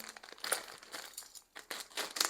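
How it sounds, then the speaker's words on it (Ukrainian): Plastic Temu parcel holding a tactical belt and pouches being unpacked, with irregular bursts of crinkling and crumpling wrap close up, pausing briefly midway, no talk. "Ось така посилочка прийшла, я її не розпаковував традиційно, а розпаковую для вас на відео."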